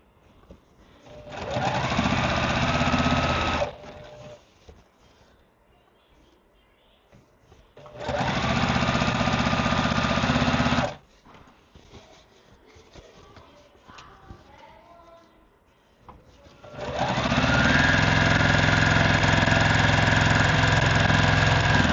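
A sewing machine stitches quilt pieces in three separate runs of steady, fast, whirring motor noise, close and loud, with quieter handling sounds and pauses between the runs.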